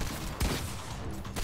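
Gunfire in the Fortnite video game, a dense burst of shots with a sharp louder crack near the middle, sounding close and loud with no voices over it.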